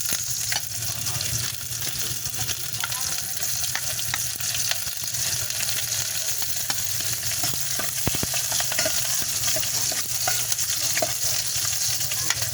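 Garlic and onion sauté in hot oil in a pan for ginisang sardinas, giving a loud, steady sizzle with occasional stirring clicks throughout.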